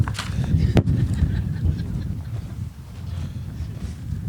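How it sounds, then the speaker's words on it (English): Gusty wind buffets the microphone at an outdoor high school graduation on Nantucket with a low, continuous rumble, with one sharp knock near the start. "It's pretty windy."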